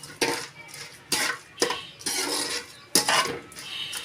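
A spoon scrapes and clinks against a pan while lemon rice seasoning is stirred, a series of sharp metallic knocks and scrapes in an uneven rhythm, close and clear with no voices.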